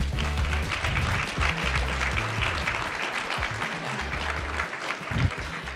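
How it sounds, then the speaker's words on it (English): An audience at a startup competition regional qualifier gives the finalists another round of applause, a dense and moderately loud clapping over a low, rumbling hum in the hall. "Can we have another round of applause?"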